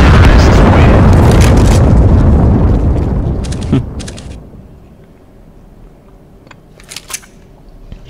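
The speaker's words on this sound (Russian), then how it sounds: "Ну да. Все, взрыв." A video game explosion bursts loud at the start with a heavy rumbling roar that decays over several seconds, followed by a few faint clicks and small noises in the quiet afterward.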